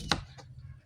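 Raw, unripe banana sliced for banana chips: one crisp, sharp cut close by, then a softer second slice a moment later over faint background hum.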